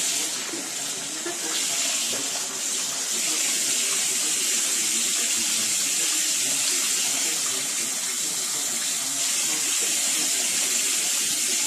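Toilet flushing with a cat watching, a loud, steady rush of water that runs close and continuous for the whole stretch without a break, with no voices.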